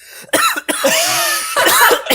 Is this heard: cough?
yes